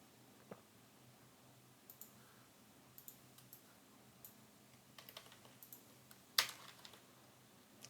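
Typing a string of code on a computer keyboard, faint scattered key taps in small irregular clusters, one sharper click near the end, quiet room.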